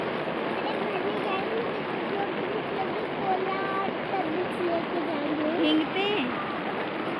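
Rain pouring down outdoors, a steady hissing wash of water like a running stream, with a voice talking intermittently over it.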